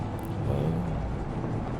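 Car engine in the video game H1Z1, a low steady motor rumble at moderate volume without speech over it.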